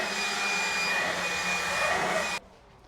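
An air blower hisses steadily up close while clearing sawdust out of screws, holding one loud, even whoosh for over two seconds before cutting off abruptly into quiet room tone.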